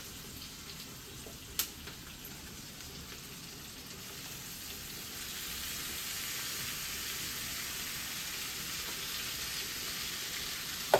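Onion and tomato fry for a chicken curry in a home kitchen, a steady close hiss that grows louder and denser about halfway through, with one sharp clink near the start.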